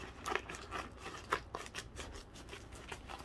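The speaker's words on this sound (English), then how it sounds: "we're going to cut this open" Close scissors or a blade cutting and tearing into a product shipping package, a quick series of crisp snips and rustles in a quiet room with no talking.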